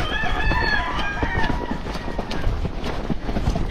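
A rooster crows with chickens clucking nearby around a barn, set against a steady background of Missouri Fox Trotter horse hoofbeats and outdoor noise.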